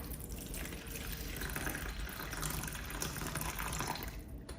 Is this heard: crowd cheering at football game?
no